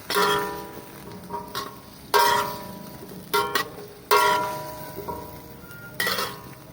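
Chicken feet sizzle and crackle in a hot pan with a steady hiss, and sharp scraping bursts come every second or so as they are stirred.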